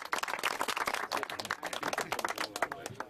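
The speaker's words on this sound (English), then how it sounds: "could you all give yourselves a nice round of applause?" An afternoon audience at Butlins, Barry Island, applauds at a blue plaque event, a dense, continuous patter of many hands clapping at moderate distance.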